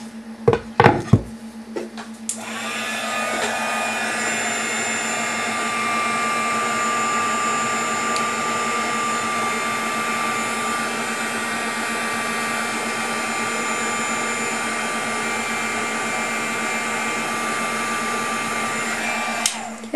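A heat tool runs steadily for about seventeen seconds after a few short clicks and knocks, blowing a close, loud whir while melting silver UTEE embossing powder on a Halloween mini album.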